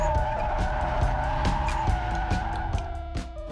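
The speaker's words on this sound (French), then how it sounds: "Elle veut à tout prix apprendre à faire glisser sa Nissan comme une pro." A Nissan drifts with its tires skidding and squealing, the engine roaring loudly and continuously at close range, with a few sharp bumps and clatters along the way.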